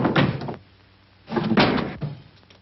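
A kitchen door that needs repair is worked open and closed in a 1941 film scene, giving two loud bursts of rattling, scraping wood with a clunk, separated by a quiet pause, on narrow old soundtrack audio.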